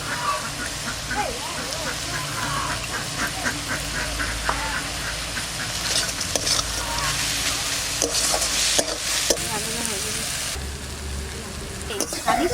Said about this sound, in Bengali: আমার শাক ভাজা হয়ে গেছে